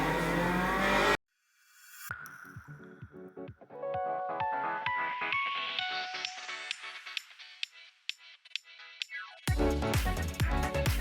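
A car engine in the racing simulator Assetto Corsa climbs through the revs with rising pitch on the Akagi mountain pass, tires squealing in a second-gear handbrake drift, framed by short bursts of loud music before and after.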